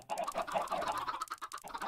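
Chickens clucking in the video game Minecraft, a quick run of close, repeated clucks over a couple of seconds with no talking.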